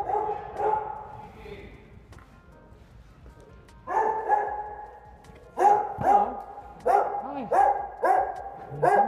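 A dog barks repeatedly near a house doorway, a few scattered barks at first, then a quick run of loud, evenly spaced barks, with people talking nearby.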